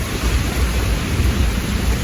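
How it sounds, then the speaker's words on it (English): Heavy rain pours steadily in Barbados, a dense, loud outdoor wash with deep rumbling underneath, and nobody speaks. "The rain has subsided a little bit, but it's still too much though."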